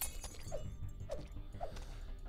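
Wine glasses breaking in the video game Freddy Spaghetti, four moderately loud shattering crashes spaced evenly about half a second apart over a continuous game soundtrack.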